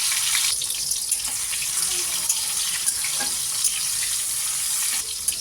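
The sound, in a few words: chopped tomato frying in oil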